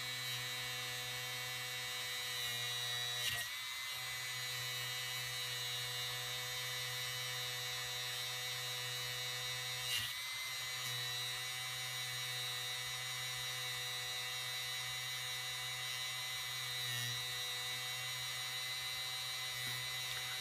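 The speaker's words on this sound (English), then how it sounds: "I'll take my Dremel tool. Turn the speed down." Dremel rotary tool turned down to low speed, polishing Glock 21 trigger parts: a steady, even motor whine with a constant hum, running continuously throughout with a few faint brief contact bumps, no talk.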